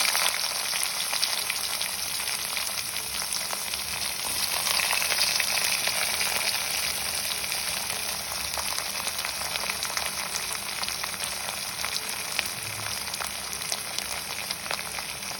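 Onions frying in oil with mustard and fennel seeds, a continuous crackling sizzle with small pops, moderately loud and close, steady throughout with no voices.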